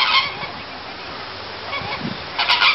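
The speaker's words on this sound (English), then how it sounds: "Ooh, flamingos." Flamingos at the Philadelphia Zoo give a few short, nasal honks, one at the start and another burst near the end, over a background hiss.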